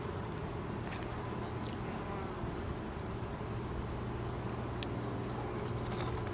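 Honey bees hum around an open hive during an inspection, a dense continuous buzz close by with a few faint ticks and shifts in pitch from individual bees.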